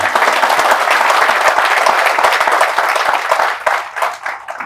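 Loud, dense applause from an audience at an app launch event, many hands clapping steadily close by, then thinning and fading near the end.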